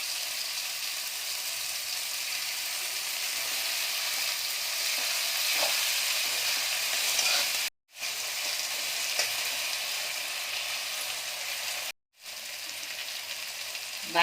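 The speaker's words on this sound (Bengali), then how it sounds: "আস্তা বাড়িয়ে একটু নাড়তে হবে এটাকে। সামান্য ভাজা ভাজা হয়ে এসছে।" Water lilies fry with mustard and poppy seed paste in a pan, giving a steady, close, even sizzle while being stirred, with two brief silent cuts and no talking.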